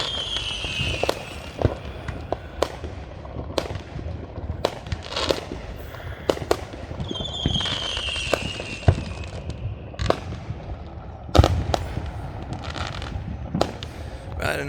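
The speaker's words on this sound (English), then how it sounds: "I didn't know I was gonna be doing a fireworks show for everybody too." Fourth of July fireworks pop and bang in a rapid, irregular series of sharp reports, some near and loud, with crackling trails and brief whistles between bursts.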